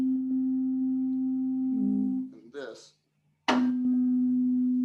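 A pure, steady ringing tone from a struck tuning fork sustains, breaks off briefly as a voice speaks one word, then rings out again.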